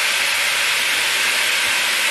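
Food browns in a hot pan while pho is being cooked, giving a steady, loud, unbroken sizzle with no talking over it.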